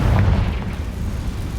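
Confringo blasting spell going off in Hogwarts Legacy combat: a heavy, continuous booming roar with dense low rumble throughout the short moment.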